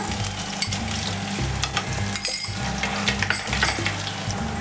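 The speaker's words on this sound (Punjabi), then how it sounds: "ਲਸਣ ਨੂੰ ਥੋੜਾ ਜਿਹਾ ਸੇਕ ਲੱਗ ਗਿਆ ਹੈ" Garlic and cumin frying in hot oil for an ivy gourd vegetable dish, a dense continuous crackling sizzle with stirring clinks throughout, close and loud, no talk.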